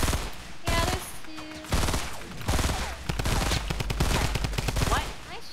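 Rapid bursts of gunfire in the video game Fortnite, sharp repeated cracks in quick automatic strings broken by brief gaps, loud and close throughout.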